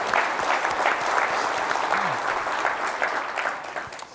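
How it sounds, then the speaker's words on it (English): A keynote audience at a flash memory summit breaks into dense, sustained applause, loud and even throughout before easing slightly at the end. "just everybody clap for these guys"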